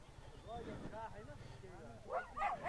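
A black dog barking on the road near a moving motorbike: several short, yappy barks and yips, moderately close, mixed with engine rumble and a voice talking over them.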